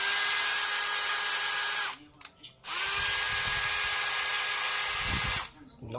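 A DeWalt brushless drill runs in two long, steady high-pitched whirs separated by a brief pause, loud and close, each spin held for a few seconds before cutting off.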